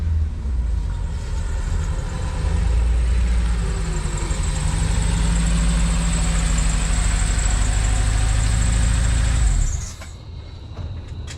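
A car with a blown Honda K20A2 engine drives up to a driveway, its engine droning loudly and steadily for about ten seconds before cutting off abruptly near the end.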